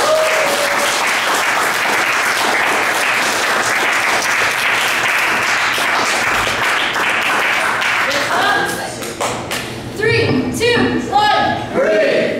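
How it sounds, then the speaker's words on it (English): A cafe audience at a poetry reading gives steady, sustained applause that fades into scattered claps, with voices and cheering breaking through near the end. "Can we get a big round of applause for the next person on the list?"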